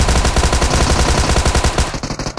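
Rapid automatic gunfire in the shooter game PUBG Mobile, a loud, close, sustained rattling stream of shots in steady rhythm for about two seconds, then a few scattered bursts.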